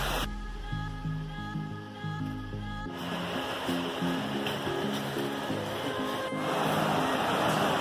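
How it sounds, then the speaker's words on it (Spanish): A jungle stream flows with a steady wash of running water, first under a faint tonal background hum and then louder and more open, rising toward the end. "Llegamos a un arroyo y aquí se están abasteciendo de agua."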